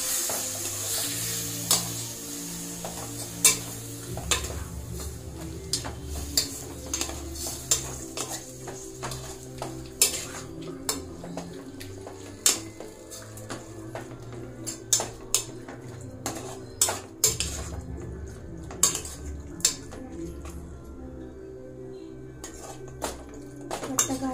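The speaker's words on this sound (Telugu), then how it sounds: "చికెన్ వేసుకొని ఒకసారి చికెన్ కలుపుకుంటాం." Chicken stirred in oil in a pan, with a spoon repeatedly scraping and clinking against the metal over a soft sizzle, sharp knocks scattered irregularly across the stretch.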